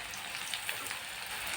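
Chopped onions and green chilies frying in hot oil, a dense, steady close-up sizzle with faint crackles and a sharper burst at the end, no voices.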